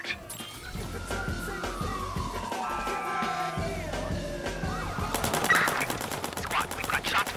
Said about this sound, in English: we've got shots fired